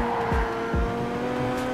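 A car in GTA V drives hard with a steady engine drone while its tires squeal in a couple of short chirps, close and loud, with no talking.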